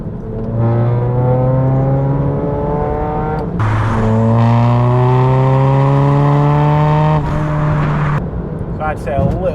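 A MINI Cooper 2.0 SD with a B47 diesel engine and custom exhaust, revving loud and deep in two long rising pulls with a brief drop between them, close and sustained.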